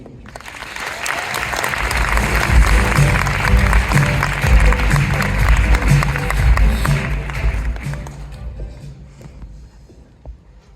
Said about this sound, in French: Je vous demande d'applaudir bien fort Anna Jean-Claude.